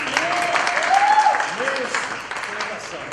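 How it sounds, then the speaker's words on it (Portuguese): A studio audience on the Brazilian talk show Programa do JÔnas claps in a brisk burst while voices talk over and through it, the applause thinning a little toward the end. "gente, palmas"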